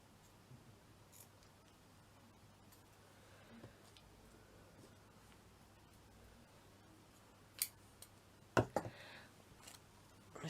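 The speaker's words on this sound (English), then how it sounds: "So I'm just going to snip so many off." Scissors snip through craft pieces for a Christmas village model, a few faint, sharp cuts coming late in an otherwise quiet stretch.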